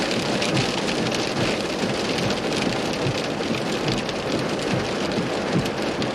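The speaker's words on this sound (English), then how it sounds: "A lot of small hail." Small hail falling during a winter storm, a dense, steady rattle of pellets striking surfaces, loud and unbroken throughout with no voices.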